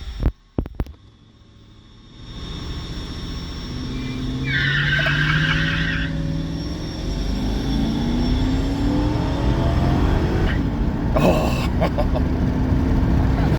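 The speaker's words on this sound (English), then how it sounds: "we get second gear chirps. So we shift from first to second under boost." A supercharged Lincoln Town Car chirps its tires on a first-to-second gear shift under boost, with a sharp squeal burst amid a loud, rising engine roar that continues strongly after the shift.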